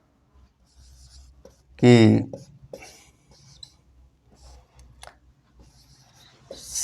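Chalk or marker writing points on a board during a classroom science lesson, a series of light scratchy strokes and taps spread across the clip, with a teacher's voice briefly speaking near the start.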